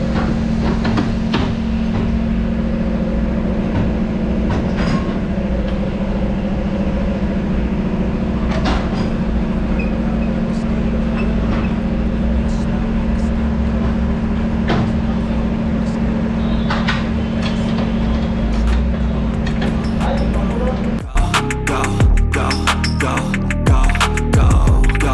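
A tyre changer machine works a Pulsar 150 tyre off its alloy rim, first as a loud, steady motor hum, then as a burst of mechanical clanks and clatter near the end.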